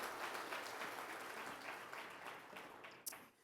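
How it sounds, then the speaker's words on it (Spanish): Faint, steady applause from a church congregation, many hands clapping in a dense patter for a few seconds. "dale el mejor aplauso que tú puedas ahí al Señor por su palabra"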